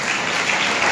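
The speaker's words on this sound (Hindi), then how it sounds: "ताली बजा के यीशु मसीह को महिमा" Congregation at a Sunday church service clapping together in praise of Jesus, a dense, loud burst of many hands with no talking.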